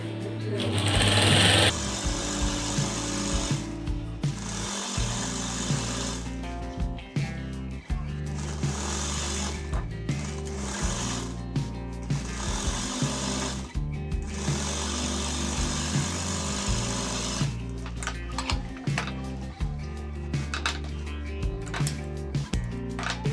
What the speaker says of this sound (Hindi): वैसे ही वापस फ्रंट को बैक से जोड़कर हम इस तरीके से सिलाई लगाएंगे।